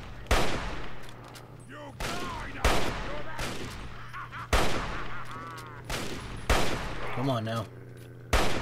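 Gunfire in Fallout 3 on Xbox Series S: six sharp, loud shots spaced about a second apart, each with a short ringing tail, while a man mutters briefly between them.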